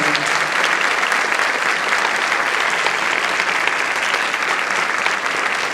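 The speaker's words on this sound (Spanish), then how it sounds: "Lo recibimos con un fuerte aplauso." Audience applause welcoming the first speaker of the afternoon at a conference on justice in San Juan, Argentina: dense, steady clapping that stays loud and even throughout with no talk over it.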